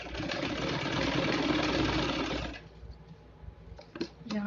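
A domestic sewing machine runs a straight seam through three layers of fabric held together, a steady whirring buzz for about two and a half seconds that then stops, leaving faint handling clicks.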